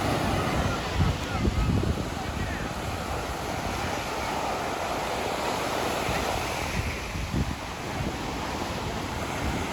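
Waves roll and break steadily against rocks on the Puducherry coast in a constant sea roar, with wind rumbling against the microphone and faint voices in the background.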